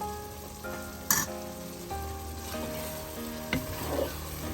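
Paneer frying in a pan with tamarind water added gives a steady close sizzle, broken by a few sharp clinks and stirring scrapes.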